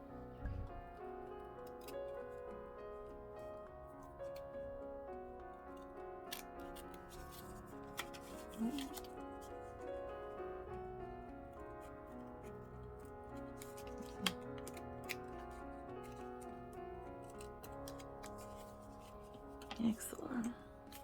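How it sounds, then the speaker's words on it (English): Small scissors trim a paper flower for a paper rose card, giving faint crisp snips and light paper rustles under soft, quiet talk. "Now with the small scissors, we're going to trim."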